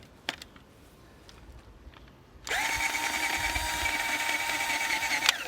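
A Ryobi electric garden cultivator starts abruptly after a few quiet clicks and runs with a loud, steady, high motor whine, close by, for the rest of the moment.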